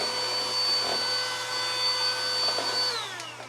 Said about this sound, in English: I use a little vacuum, or just straight up a duster.